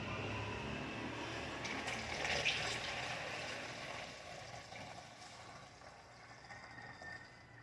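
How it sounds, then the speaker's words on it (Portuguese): Water kefir pours into a bottle as a close liquid trickle and splash that swells briefly, then tapers off into a softer flow. No talking accompanies it. "Vou colocar dentro de uma garrafa"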